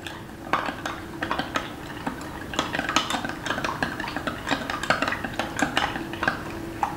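A spoon stirs yeast and sugar into warm milk in a bowl or cup, giving quick repeated clinks and scrapes against the container at moderate volume, close by and without talk.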